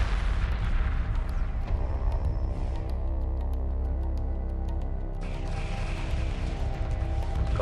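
Space battle weapon fire in Homeworld Remastered, a continuous roar of rapid crackling shots and rumbling booms with steady mechanical drone, loud and dense throughout.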